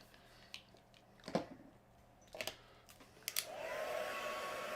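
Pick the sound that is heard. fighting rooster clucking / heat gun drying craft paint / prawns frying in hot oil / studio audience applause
heat gun drying craft paint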